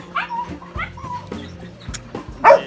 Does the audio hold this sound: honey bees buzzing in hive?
no